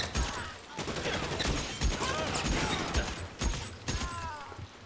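Gunfire in the video game L.A. Noire: rapid sharp shots crack out in bursts over a busy mix of mechanical clatter and game sound, with a voice talking faintly underneath.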